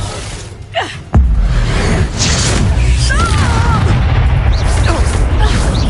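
Spell blasts from Confringo and Levioso casting in Hogwarts Legacy: a sharp crack followed by a heavy booming impact, then rumbling fight noise with whooshes and shattering debris. Voices and shouts are heard throughout.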